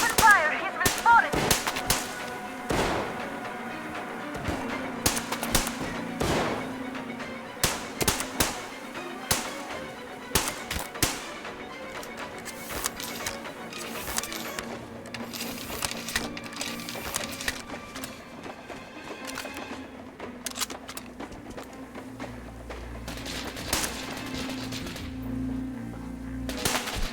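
Metro Exodus gunfire crackles in sharp bursts and single shots amid clanks and action noise. Dense volleys cluster early, then scattered shots follow over a humming game backdrop.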